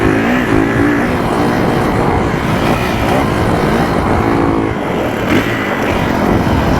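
Kawasaki KX450F dirt bike on a motocross track approaching and hitting a jump, its engine roaring loud and close, the pitch rising and falling with throttle, steady without pause and with no talk.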